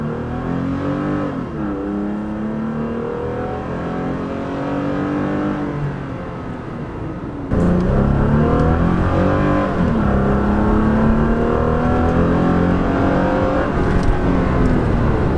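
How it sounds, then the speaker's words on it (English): A 2016-or-later Toyota Tacoma TRD with an MBRP exhaust accelerating from 0 to 60, heard from inside the cab with the windows up, a steady engine drone climbing through gear shifts and swelling louder partway through. "I'm going to go ahead and go 0 to 60 and from the inside of the cab"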